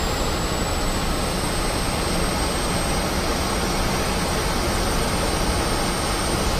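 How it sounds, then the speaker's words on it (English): Constant roaring jet engine of a MiG-15bis in the DCS flight simulator, blended with broadband rushing wind, steady and loud throughout with a faint high whine above. "Yeah, that's definite wind noise."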